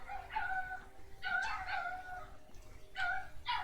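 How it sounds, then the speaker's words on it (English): Dogs barking and yelping in short, harmonic bursts, three clustered outbursts over a low steady background hum, moderately distant and without speech. "Dogs are going crazy."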